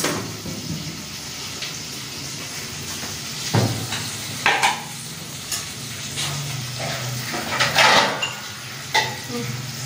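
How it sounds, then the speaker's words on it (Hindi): Onions browning lightly in a home kitchen pan give a steady low sizzle, broken by spoon scrapes and clatters against the pot, with faint voices in the background. "मैंने प्याज डाले और इनको ब्राउन होने देंगे हल्के।"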